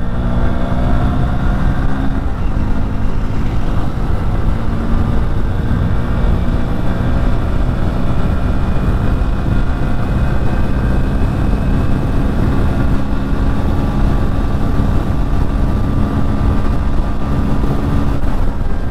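A Hero Splendor+ motorcycle on the road in first gear, its engine droning steadily as it accelerates toward top speed, with heavy wind rush over the microphone throughout.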